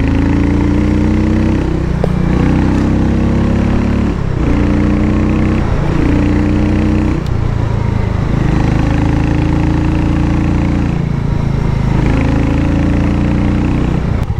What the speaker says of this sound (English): The exhaust is just so entertaining for a single.